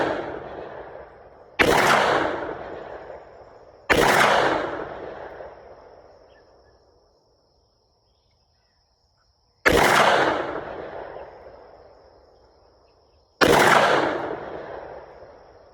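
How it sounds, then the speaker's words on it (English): Four loud, sharp gunshots from a double-action packing pistol fired at a target outdoors, each crack trailing off in a long decaying echo, spaced unevenly with a silent pause between the second and third. "Well, shooting that double action wasn't so bad."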